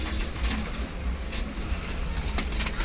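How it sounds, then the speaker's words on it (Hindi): Madrasi pigeons coo steadily in a loose group, a soft low cooing that runs throughout over a constant background rumble, close and fairly loud, with no talking. "सारे तंदुरुस्त कबूतर हैं,"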